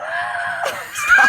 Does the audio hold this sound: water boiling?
no